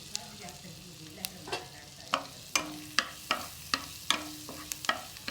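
Garlic frying in melted fat in a pan while being stirred, with a faint sizzle under a series of sharp utensil scrapes and clacks every half second or so, coming close and clear with no voices.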